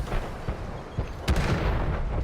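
Rockets fire and explode during a tank battle in a video game, a series of booming blasts and thuds with one sharper crack in the middle over rumbling background noise.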